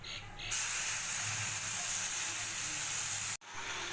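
Spice paste is poured into a hot pan and erupts into a loud, bright sizzle that holds steady, then cuts off abruptly near the end before resuming more quietly.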